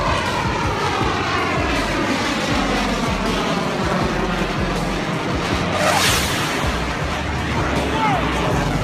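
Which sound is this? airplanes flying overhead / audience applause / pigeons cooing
airplanes flying overhead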